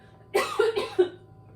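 A few quick coughs in a short burst, close and fairly loud, with no talking.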